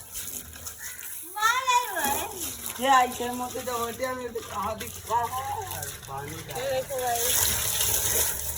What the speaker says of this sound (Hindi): भरो भरो पानी भरो अच्छे से